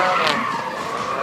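Drift car skidding at a drift car show, a sustained loud tire squeal with a rough, hissing edge lasting the whole moment, fairly close.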